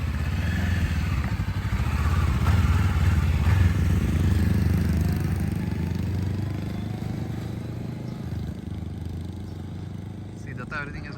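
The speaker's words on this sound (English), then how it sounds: "going out to try the bike." A motorcycle engine runs at low rumbling revs, steady and fairly close, over about eleven seconds, with a voice talking over it.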